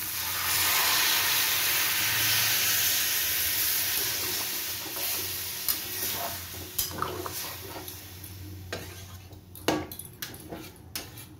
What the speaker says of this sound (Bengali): এবার আমি এর মধ্যে জল দিয়ে দিচ্ছি।